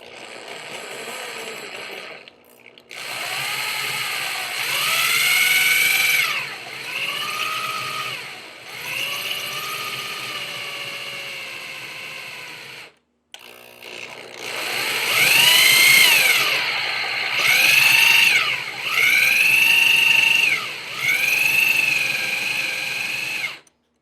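A handheld power drill bores into a metal heatsink without a drill press, whining loudly in long rising and falling bursts with pitch shifts as the load changes, pausing briefly between runs.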